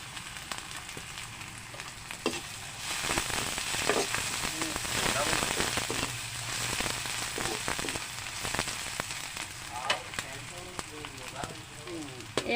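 Ginger-garlic paste and chopped green chilies frying in hot oil, a loud continuous sizzle with crackling spits and stirring clatter, while someone talks over it at times.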